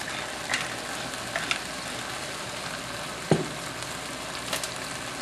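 Hoisin beef and mixed vegetables sizzle steadily in a hot pan while a spoon stirs through them, with a few soft scraping clicks over the constant frying hiss.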